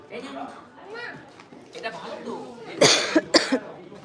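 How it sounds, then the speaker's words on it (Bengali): Someone talks, then coughs twice in quick, close, harsh bursts near the end. "খুব কাশি হচ্ছে"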